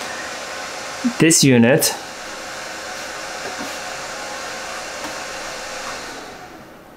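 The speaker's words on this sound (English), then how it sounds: "as soon as my power supply stops making that horrible noise" A power supply gives off a loud, steady whirring hiss that fills the whole stretch and fades slightly at the end, with a short spoken phrase over it near the start.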